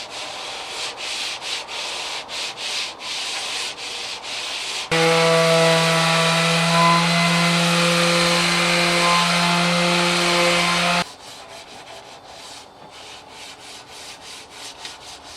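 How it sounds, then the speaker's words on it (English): A steady, loud whir of a power sander on wood during final sanding of a small sailboat build runs for several seconds, with rougher scraping and rubbing strokes before and after. "I'm doing the final sanding."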